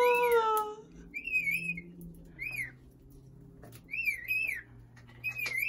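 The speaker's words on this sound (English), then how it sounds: "He's whistling it when he likes it." A pet bird gives several short, bright whistled phrases in bursts, with pauses between them, close and clear over a low background hum.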